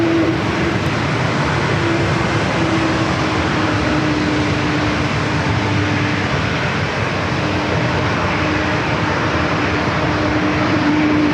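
An airliner taking off from San Diego airport for Las Vegas, a loud sustained jet roar with a steady engine hum, near and unbroken, no voices.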